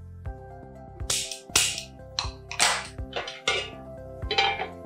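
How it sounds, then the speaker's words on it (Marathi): A frying pan is set down on a gas stove in a home kitchen, producing a series of sharp metallic clanks and clatters over steady background music. "आपण फ्राय पॅन घ्यायचंय आणि गॅस सुरू करूया."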